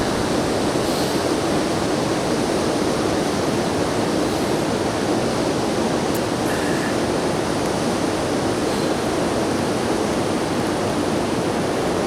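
Continuous loud rush of river water on the North Fork American River, dense and unbroken for the whole stretch, with no voices.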